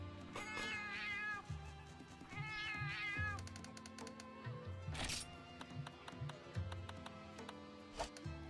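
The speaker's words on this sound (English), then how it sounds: "Your cat can cook you food in your room." Repeated cat meows in Monster Hunter Frontier, drawn-out and up close, mixed with game music and soft tapping sounds, with no one speaking.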